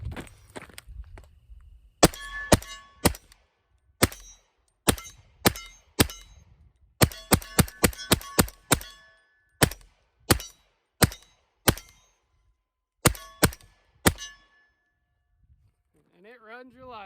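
A 300 Blackout rifle fitted with a Witt Machine & Tool Dirty 30 suppressor fires a long irregular string of sharp, close reports, some in quick clusters, separated by near-silence, with a faint chirp at the end.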